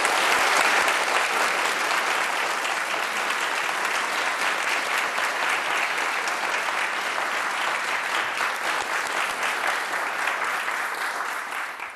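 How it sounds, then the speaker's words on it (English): A large audience applauds Nobel laureates in Stockholm, a full, continuous wash of clapping that stays strong and even from start to finish, easing slightly at the end. "let's just give them a really big round of applause"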